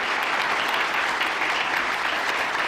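Steady, dense audience applause fills a large hall during Marco Rubio's speech in Munich, loud and continuous throughout with no voices over it.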